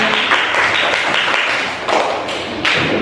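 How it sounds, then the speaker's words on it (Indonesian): A class of teachers in a training session claps together in short, loud bursts of sharp taps and thuds, with brief pauses between rounds. "Tepuk tangan untuk kita semuanya"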